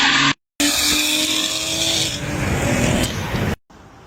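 Intake roar of a big-turbo BMW N54 car passing close by, a loud, dense, rushing engine sound that holds strong for about three seconds between brief cuts of silence.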